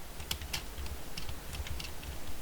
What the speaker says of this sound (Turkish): Şu an zıplamayı yapıyorum zıplama tuşuna basıyorum.